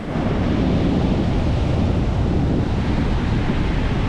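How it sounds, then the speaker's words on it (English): Chaotic ocean surf at a Los Angeles beach on a very windy day, a dense continuous roar of breaking waves mixed with heavy wind buffeting, loud and close with no talking. "It's a very windy day, so the surf is sort of chaotic."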